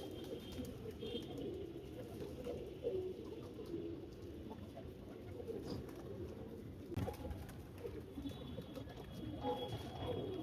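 Pigeons coo softly and repeatedly, low and throaty, over a steady faint background hum.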